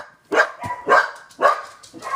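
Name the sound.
dogs barking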